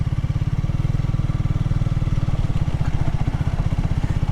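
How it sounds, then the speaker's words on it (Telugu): A 2025 Triumph Thruxton 400 engine in fifth gear at about 20 with a light knock. It throbs in a fast, even, close pulsing drone with a slight clattering edge, heard alone with no voices. "5th గేర్ 20 చిన్నది అలా అనిపించింది, కానీ నాక్ అవుతుంది లైట్గా"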